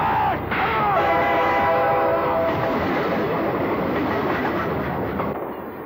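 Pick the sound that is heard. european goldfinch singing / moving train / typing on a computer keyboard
moving train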